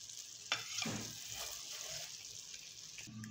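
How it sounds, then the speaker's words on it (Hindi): A spoon stirs green chana pulao rice in a pot as the water cooks off, giving a soft scraping and rustling over a faint steady sizzle, close and fairly quiet, with no talking. "अब मैं इसको एक दफ़ा मिक्स करती हूँ और फिर मैंने इसको दम पे रखना है"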